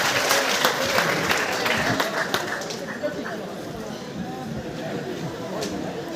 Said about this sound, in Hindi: जोरदार तालियां हो जाए एक बार।